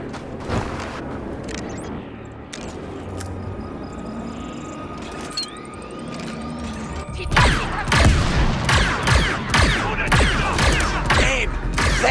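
Blaster fire in Star Wars Outlaws starts as scattered shots and mechanical clicks, then breaks into rapid, loud volleys of repeated bursts through the second half.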